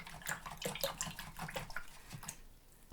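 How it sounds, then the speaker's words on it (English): A paintbrush rinsed under running water, a steady close splashing flow with gurgles and bits of sloshing, fairly quiet, fading slightly toward the end. "Okay, I'm going to rinse that brush."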